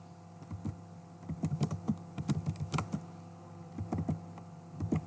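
Keys clack on a computer keyboard as commands are typed, an irregular run of light taps in short bursts over a steady low electrical hum, with no voices.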